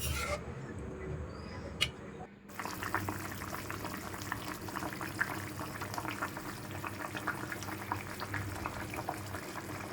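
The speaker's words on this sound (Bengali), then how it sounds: "ঝোলটা ফুটে উঠেছে এবার ঝোল ফুটে উঠেছে" A thin rohu fish curry broth with ridge gourd bubbles at a steady boil in a pot, a dense, even crackle and gurgle that runs continuously after a brief quieter moment at the start.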